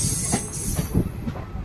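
A passenger train rolls into Mungiakami railway station, with a loud rumble of wheels on the rails, rhythmic clatter and a thin metallic squeal carried on top, heard close from inside the carriage.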